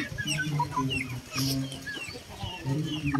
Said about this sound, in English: So I'm gonna check the other chicken here.